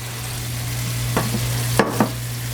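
Brandy cream sauce heats in a pan for pork chops, a steady low simmering hum with a few soft clinks and stirring knocks near the end; no voices.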